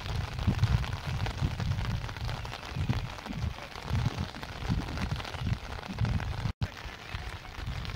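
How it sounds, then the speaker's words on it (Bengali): Heavy rain pours over a wide wetland and patters on an umbrella held close, a dense, continuous low rumble of drops with a brief dropout near the end, no talking. "খুবই বৃষ্টি আসলো দর্শক, কি করা যায় এখন দেখেন"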